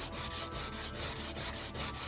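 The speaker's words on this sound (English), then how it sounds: "we're just going to sand that down" Steady rhythmic sanding over a plastic weld on a kayak hull, with regular back-and-forth strokes repeating about every quarter second, close and even in loudness, no voices.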